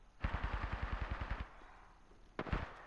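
Automatic gunfire in a first-person shooter video game: one rapid burst of about a dozen loud, close shots, then a short pause and a second brief burst, with no talking.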